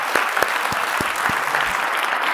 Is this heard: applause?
yes